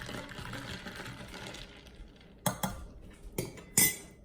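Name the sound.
stirring sweetener into iced coffee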